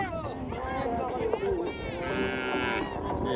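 Cattle moo with long, drawn-out calls during the Goru Bihu festival as they are brought to be bathed, over outdoor background noise and nearby voices.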